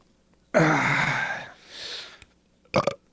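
A man lets out a long, loud, croaking burp up close, followed by a softer breathy exhale and a short second burp at the end.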